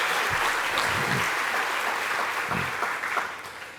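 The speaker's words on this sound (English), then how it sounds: "Now we can clap, all right?" A crowd at a 50th anniversary gala applauds steadily, a dense wash of clapping that holds for a few seconds and then begins to taper off, with no speech over it.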